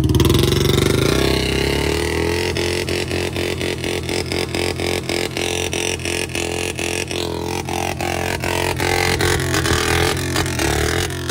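Engines of a Royal Enfield Bullet and a Yamaha R15 motorcycle strain and rev hard during a tug of war, a loud continuous drone with rapid rhythmic pulsing and shifting pitch, close by and with no voices.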